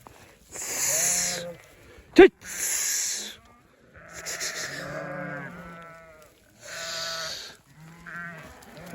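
Sheep and lambs bleating outdoors in spring, several loud, close calls in separate bursts with a brief sharp noise between them and people talking faintly nearby.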